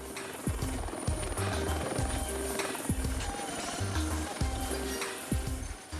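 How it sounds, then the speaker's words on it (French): A helicopter's rotor thumps in a steady rapid rhythm under a loud engine whine as a team boards, close and continuous throughout. "l'équipe embarque dans l'hélicoptère"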